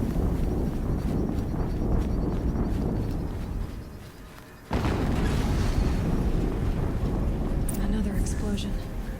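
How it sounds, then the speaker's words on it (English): A sudden, heavy explosion booms in Horizon Zero Dawn, bursting in loud and broadband after a brief lull and rumbling on. It sits over dense in-game rumble and battle noise. "Another explosion."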